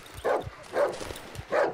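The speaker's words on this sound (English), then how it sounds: "Oh, it's a mean dog!" A mean dog barks in the horror game Darkwood, three evenly spaced gruff barks, close and fairly loud, with no speech.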